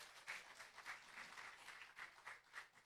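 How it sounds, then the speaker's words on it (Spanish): An audience claps in warm applause at a live event, a steady patter of many hands lasting a few seconds, moderately loud with no voices over it. "Un aplauso."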